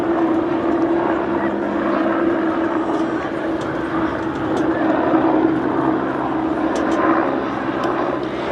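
Steady droning engine noise of a Westland Wasp helicopter flying a display at an air festival, continuous and moderately loud throughout, with faint talk underneath.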